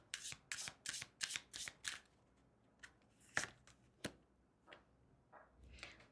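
A deck of tarot cards shuffled in a quick burst of papery riffles, then single cards slid out and laid down with scattered soft flicks, close up and quiet, no one talking.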